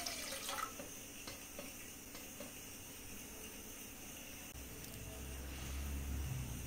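Water runs into a cooking pot on a stove while spinach dal is being made, a faint, steady splashing hiss that continues throughout and grows slightly fuller near the end, with no talking.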